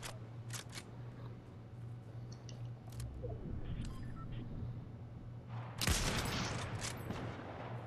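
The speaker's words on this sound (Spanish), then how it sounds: "Ese disparo fue hacia acá" Shots ring out in a Fortnite match: a few sharp, distant cracks early on over a low steady hum, then one loud close blast followed by a brief rattling tail.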